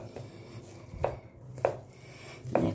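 Knife cutting soft wheat-flour dough into portions for radish paratha, a few sharp taps on a board spaced about half a second apart, faint and close.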